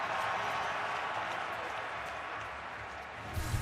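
A stadium crowd at an NFL game, Raiders at Chiefs in 2007, makes a steady, distant wash of cheering and noise that lasts the whole time, faint and continuous.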